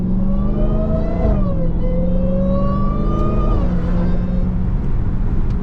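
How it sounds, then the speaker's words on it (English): A Dodge Charger Hellcat engine drones loudly and drops pitch through several downshifts in track mode in heavy traffic, with a high, steady supercharger whine riding over the engine. "That's the best thing about this car, those downshifts and that whine."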